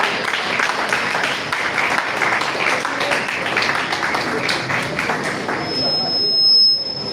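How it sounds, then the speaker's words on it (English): An audience claps at an Innovation Week gathering honoring a Technology Incubation Center guest, a dense steady wash of hands lasting throughout, with a thin high ringing tone entering near the end. "Let's clap for them now."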